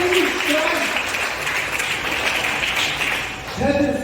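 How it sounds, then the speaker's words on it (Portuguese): Church congregation applauding during a sermon, a steady broadband wash of clapping throughout with a voice briefly heard over it near the start and end. "um aplauso para o nosso Deus maravilhoso"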